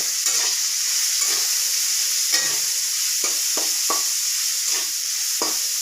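Fish added to a pan of frying potatoes, beans, carrots, capsicum and onion, a loud continuous sizzle with repeated scraping stirs of a spatula.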